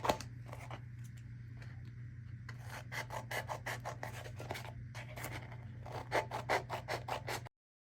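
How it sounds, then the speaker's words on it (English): A blade cuts through craft foam along a drawn line, giving close, quiet scratchy rasping strokes in quick rhythmic bursts over a low steady hum, ending abruptly. "we are going to go ahead and cut along the line"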